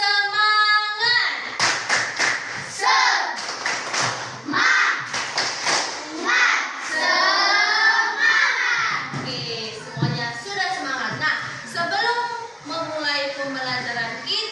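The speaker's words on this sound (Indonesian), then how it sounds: "coba dulu kita tepuk semangat supaya lebih semangat" A primary school class claps the rhythmic 'tepuk semangat' pattern, quick bursts of hand claps in a set rhythm mixed with children's loud chanting voices throughout.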